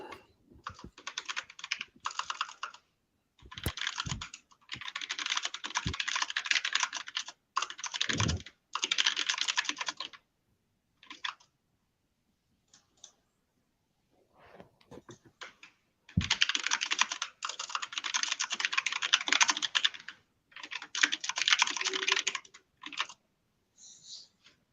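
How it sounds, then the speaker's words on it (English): Loud computer keyboard typing in close bursts of rapid key clicks, separated by short silent pauses, with no talking. "How bad is my keyboard right there? It's pretty loud."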